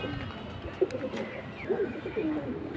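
Domestic pigeons at a fancy pigeon sale coo in several short, soft bursts against a low background hum, calls fairly close and moderately quiet.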